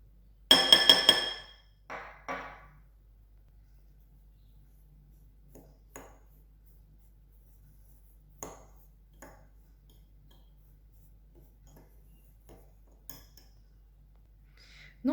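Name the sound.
sugar and cinnamon being mixed in a glass bowl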